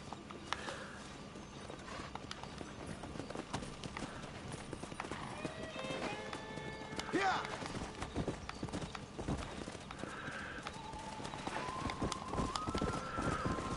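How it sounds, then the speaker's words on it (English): Steady clip-clop of horse hooves at a riding pace in Red Dead Redemption, under a noisy outdoor backdrop, with a brief whinny partway through. "Садитесь на свою лошадь."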